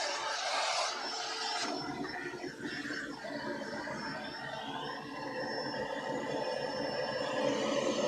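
Continuous rasping and grinding as a pen blank is trimmed down for pen making, a steady abrasive whir with a sharper scrape near the start, close and fairly loud with no talking.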